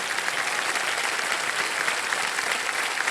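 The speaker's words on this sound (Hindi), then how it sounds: "ये ताली बज जाए इनके लिए" Studio audience on the KBC quiz show set applauds in a steady, thick burst of clapping that holds evenly for a few seconds, full and close, with no talking on top.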